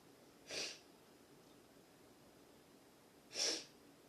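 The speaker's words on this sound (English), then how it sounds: "Excuse me, all this sniffling." Two short, breathy sniffs, spaced a few seconds apart, close by against a quiet background.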